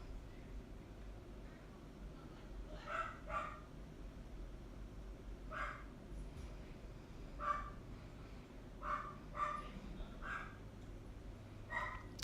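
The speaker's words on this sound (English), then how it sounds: "I'm not sure if you can hear my dog barking downstairs" Muffled dog barks from downstairs, in short scattered bursts of one or two, faint beneath a low background hum.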